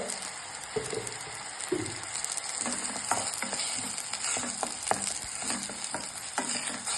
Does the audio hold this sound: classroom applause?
no